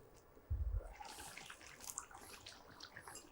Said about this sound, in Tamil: அடுத்ததாக கொஞ்சம் இந்த புளி தண்ணி நம்ம ஆட் பண்ணிக்கிறோம்.